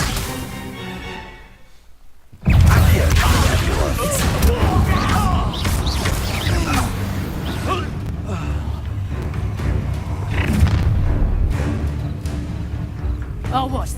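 A Stupefy spell is cast during a Hogwarts Legacy combat encounter: a sudden loud burst breaks a near-silent pause, then dense battle noise continues with voices talking over it.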